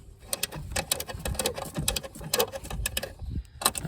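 Quick bursts of a hand ratchet clicking as a 12 mm nut is loosened on the diesel fuel filter housing of a 2014 Kia Sportage 2.0 CRDi, with irregular metallic taps and short pauses between strokes, close up.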